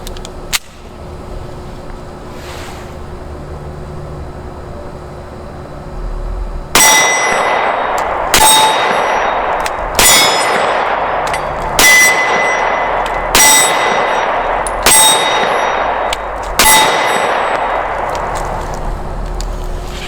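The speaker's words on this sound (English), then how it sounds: "this gun's punking on a fence post at 25 feet." A German Luger pistol fires seven rounds at a target on a fence post 25 feet away, each shot a sharp ringing clang, spaced evenly about every one and a half seconds.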